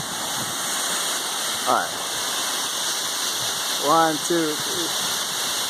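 A jungle waterfall pours as a steady, broad rush of water that fills the whole clip, while a man calls out a short count over it.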